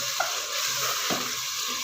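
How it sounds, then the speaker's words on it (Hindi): Finely chopped fenugreek leaves hit a hot pan for an aloo methi dish, giving a close, steady sizzle with a brief stirring scrape partway through. "ये देखिए इसके बाद मैं इसमें शामिल करूँगी बारीक कटी हुई मेथी।"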